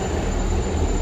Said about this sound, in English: Busy train from Salisbury to Exeter St David's, lots of holidaymakers, bags, suitcases.